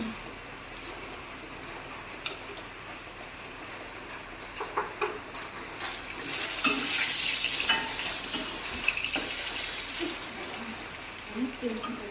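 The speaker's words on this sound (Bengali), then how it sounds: "আলুগুলো ভাজা হয়ে গেছে" Potatoes with turmeric and salt fry in hot oil with a loud, steady sizzle. A spatula scrapes and clicks against the pan now and then, and a voice speaks at times.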